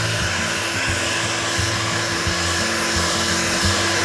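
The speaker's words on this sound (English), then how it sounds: "we take the heat gun and we just" A heat gun blows steadily while remelting wax on wood being stained to look old, a loud close whirring fan drone with a low pulsing motor hum, no talking.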